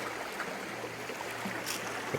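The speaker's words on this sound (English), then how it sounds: "secondary creek coming in" A small secondary creek runs into a stream on an overnight backpacking trip, giving a steady, even rush and trickle of flowing water heard close by with no talk.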